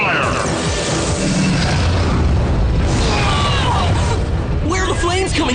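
Cartoon fire-attack explosion effect: loud, dense booming blasts and whooshing bursts fill the whole stretch, with shouted character voices mixed over the effects.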